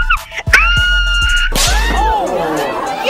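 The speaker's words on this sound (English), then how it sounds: "Why are you screaming" A person screams loudly in an online Roblox game session, a sustained shrill cry that wavers and bends in pitch, with other voices and thumps around it.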